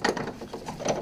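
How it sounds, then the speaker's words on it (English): A belt tensioner is slid into place between the crankshaft vibration damper and AC compressor on a VW Golf Mk4 1.9 TDI engine, giving a brief close metallic clicking and scraping lasting about a second. "slide it here between crankshaft vibration damper and the AC compressor"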